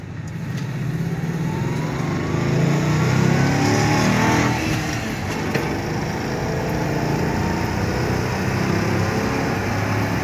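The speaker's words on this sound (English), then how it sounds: "Get out here on the main road and we'll really give her the beans." A 2011 Ford Crown Victoria LX, swapped to a 5-speed manual, accelerates hard on a main road, its engine note loud and close, rising and swelling through about ten seconds with no talk.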